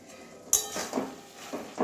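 Metal spoon clinking and scraping in a pan of mushroom and drumstick-leaf curry cooked fairly dry with garam masala, a sharp clatter then a few softer scrapes and knocks, close and moderately loud.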